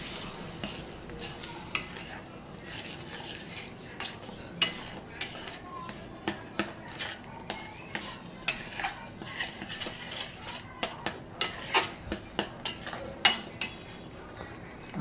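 A spoon stirs mango sheera with milk in a pan, scraping and clinking in a steady series of quiet, close taps over a soft sizzling background.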